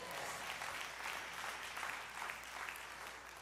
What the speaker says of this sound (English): Clap your hands and say yes